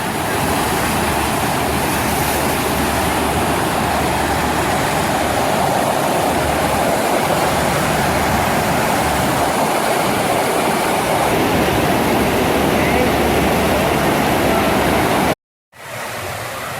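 Rushing water at a FlowRider surf wave pool at a beach resort, a loud, steady broadband roar that holds throughout before cutting out briefly near the end.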